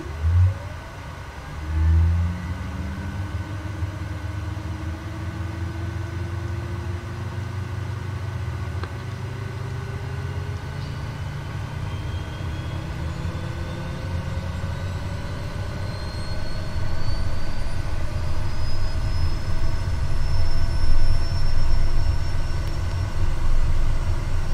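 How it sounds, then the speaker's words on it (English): Daher Kodiak single-engine turboprop starting up in Microsoft Flight Simulator, a low rumble joined by rising turbine whines that climb steadily in pitch and grow louder toward the end, no talking. "let's go ahead then. Starting engine."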